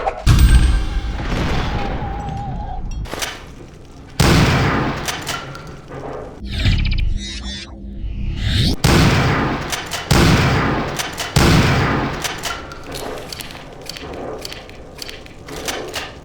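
Shotgun blasts in NecroVision, a fantasy shooter, boom out one after another with short gaps between them, each a heavy loud report with a brief tail, fairly close.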